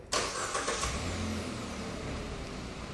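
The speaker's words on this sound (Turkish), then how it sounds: "Çalıştırın arabayı." A Kia Sportage engine cranks and catches with a sharp burst, then settles into a steady, close idle rumble with no voices.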